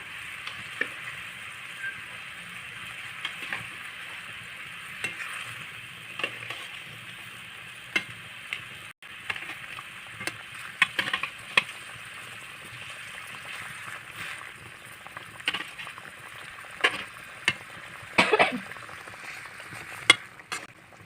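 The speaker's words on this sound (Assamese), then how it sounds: "এয়া মাছখিনি দি দিছোঁ" Fish frying in a pan for fish curry, a steady bright sizzle with occasional pops and stirring scrapes, close and continuous.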